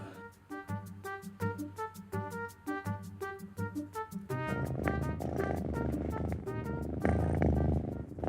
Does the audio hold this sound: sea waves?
no